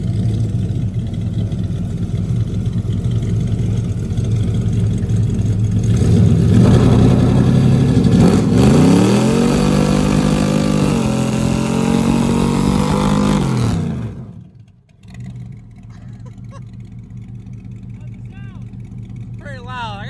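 A burnout truck fitted with NASCAR-style boom tube exhaust revs loudly and close. Its deep roar climbs and falls through repeated throttle sweeps, then cuts off sharply, and a quieter background with voices follows.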